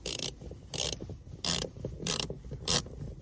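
Self-tapping screws turned by hand into a plastic rear storage cover in a Toyota 4Runner, giving five bursts of close, gritty ratcheting creaks at a steady pace with short pauses between them.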